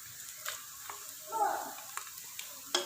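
Onions browning in oil in a home kitchen pan while making desi chicken shorba, giving a faint, low sizzle with a few soft stirring clinks and scrapes.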